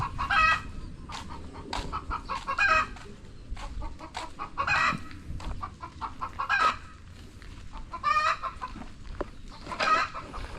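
Several chickens cluck and squawk in irregular bursts, fairly close, over a low background murmur with no clear speech.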